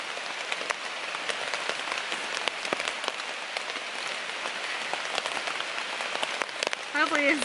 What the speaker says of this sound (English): I'm holed up right now in the tent because, as you can hear, it's raining.